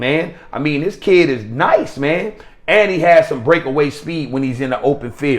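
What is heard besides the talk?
No everyday noises stand out.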